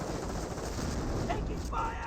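Machine gun fire in Company of Heroes, a dense continuous burst of battle noise lasting the whole moment, with a game voice calling out over it.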